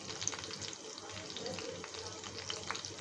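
Garlic bits sizzling with chopped green and red chillies in a hot pan for a spicy crispy corn dish, a steady close frying hiss with small crackles throughout.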